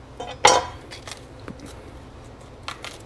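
A knife slices a bell pepper in half with one sharp, crisp crunch near the start, followed by a few faint clicks and light handling sounds in a quiet kitchen.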